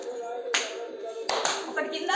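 Hands clap sharply during a yoga exercise session, a few loud, distinct claps spaced unevenly, some in quick pairs, ringing out close to the listener.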